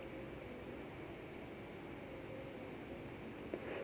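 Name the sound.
blender grinding spice paste with dried shrimp for chili oil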